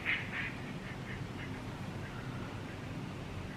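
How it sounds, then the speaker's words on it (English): Ducks quacking as they fly past outdoors, a few short bursts near the start that fade quickly with distance, over a steady low ambient hum. "There are ducks flying by."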